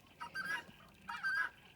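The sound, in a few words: geese honking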